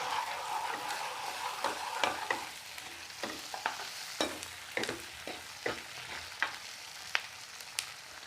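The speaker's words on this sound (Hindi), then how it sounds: "और अब प्याज, इसको हम 2 से 3 मिनट तक अच्छी तरह से पका लेंगे भूनकर।" Chopped onions frying in a pan for chilli potato, stirred with a utensil that scrapes and taps in irregular strokes over a soft, steady sizzle, close up and with no talking.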